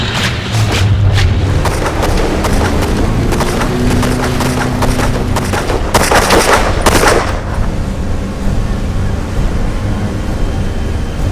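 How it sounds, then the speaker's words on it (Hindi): Loud, rapid gunfire bursts in repeated volleys, up close, with a dense rattle of shots over a rumbling background before fading into steady noise. "गोली चलाओ, इसे छोड़ना मत। गोली चलाते रहना"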